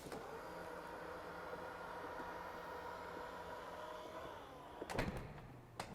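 Powered tailgate of a 2020 Range Rover Sport whirring steadily shut for several seconds, ending in a firm latch thunk and a second softer clunk, close and alone.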